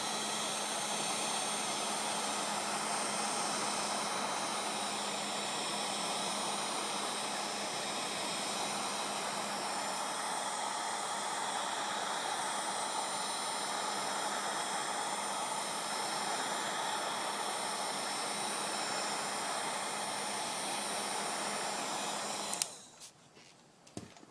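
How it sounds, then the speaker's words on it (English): A heat gun blows on ATV graphics stickers with a steady, close airy roar and a faint hum underneath that holds constant for over twenty seconds before cutting off, followed by a few handling knocks. "on some of the more difficult stickers, I'm going to use my handy dandy heat gun"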